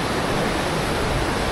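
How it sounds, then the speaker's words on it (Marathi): A stream near Dhodani Waterfall rushes in a brief, steady, loud wash of flowing water. "तर पाण्यात पाय टाकायचा आणि बिंदास ओढा क्रॉस करायचा"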